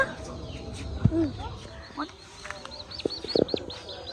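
A hen with her baby chicks in a village yard, with high, rapid chick peeps and a few clucks, close by, and a voice talking between them.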